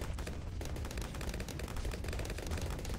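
Mortar towers firing in Bloons TD 6, a dense, continuous rattle of rapid pops and blasts layered over one another, moderately loud and unbroken for the whole stretch, with no voices.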